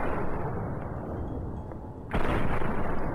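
Dense burst of gunfire in Fallout New Vegas, a rough continuous roar that jumps louder partway through as shots hit a wall, heavy and close with no talking.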